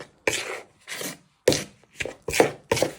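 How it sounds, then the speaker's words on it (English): A knife stirring and scraping through a dough mixture of flour and water in a bowl, several rough, rasping strokes with short gaps between them, close and distinct. "Give it a good stir"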